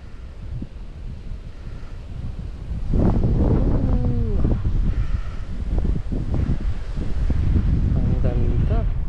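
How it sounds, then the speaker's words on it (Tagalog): Strong wind rushes and buffets a microphone outdoors, a steady loud roar that swells from about three seconds on, with wavering tonal whistles in the gusts and no talk. "Tumutunog pa sa tenga ko yung ihip ng hangin eh."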